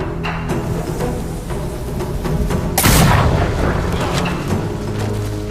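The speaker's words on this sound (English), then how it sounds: "Thrown weapons like kunai, bombs, or even blinding powder can give Atsu an edge" Bombs blast in the PS5 game Ghost of Yōtei, one heavy boom standing out over a dense, loud mix of battle noise and music.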